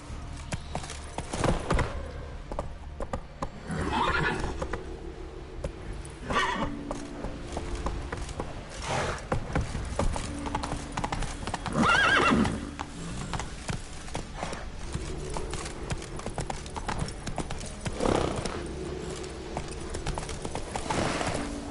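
Roach, a horse in The Witcher 3 video game, gallops with steady clip-clop hoofbeats and lets out whinnies and neighs over a busy game soundscape, loud and close throughout with no talking.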